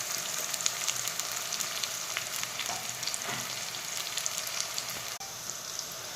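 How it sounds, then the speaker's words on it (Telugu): Onions frying in hot oil in a pan with curry leaves and garlic, a continuous dense sizzle, close and steady, with no voices. "ఇప్పుడు ఎర్రగడ్డలు వేస్తున్నాను"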